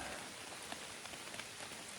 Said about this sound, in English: it's starting to rain a little bit harder, so put the Patagonia rain jacket on